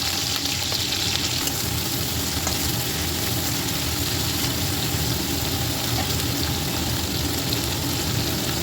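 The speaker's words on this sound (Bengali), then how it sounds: "এর মধ্যে দিয়ে দিচ্ছি পেঁয়াজ কুচি।" Chopped onion frying in hot oil for a Bengali mutton kaliya, a steady, loud, continuous sizzle that holds evenly throughout with no pauses.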